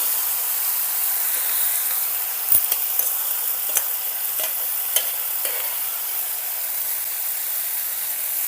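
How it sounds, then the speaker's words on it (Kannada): Ground masala stirred into stuffed brinjals frying in oil in a large pan, a steady close sizzle broken by repeated scraping and clinking strokes of a spatula. "ಈಗ ನಾನು ರುಬ್ಕೊಂಡಿರುವಂಥ ಮಸಾಲೆನ ಬದನೆಕಾಯಿಗೆ ಸೇರಿಸ್ಕೊಳತ್ತೇನೆ"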